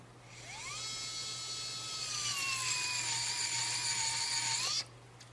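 A handheld electronic motion-controlled screwdriver motor whines steadily for about four seconds at a high, slightly falling pitch, then cuts off abruptly; close and fairly loud, with no talking.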